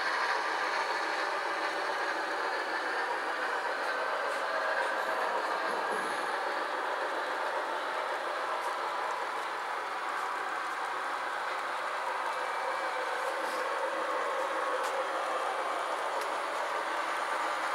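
An HO-scale Athearn Genesis Rio Grande model diesel locomotive's onboard sound, a continuous mechanical hum with a hissing, whirring tone and faint rhythmic clicking, steady and close with no voices.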